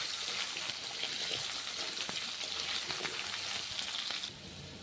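Sliced potatoes fry in hot oil in a village home kitchen, a steady close sizzle with crackling spatter, holding even before dropping slightly quieter near the end.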